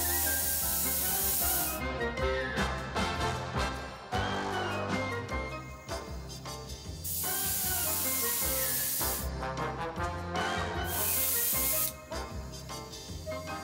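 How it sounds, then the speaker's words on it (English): An airbrush sprays thinned Revell red enamel onto a scale model over Tamiya primer, giving a steady close hiss in several bursts separated by short pauses, with no talking. "we're just gonna go and spray red enamel right on top of the Tamiya primer"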